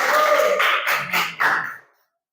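Classroom applause for a student group after their presentation, a burst of clapping from the class that fades out after about two seconds.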